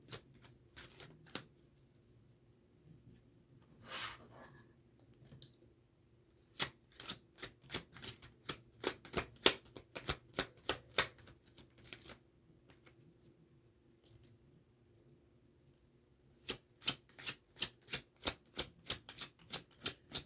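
Tarot card decks being shuffled in quick bursts of sharp riffling snaps, with pauses between rounds and a few soft rustles, close and fairly quiet with no talking.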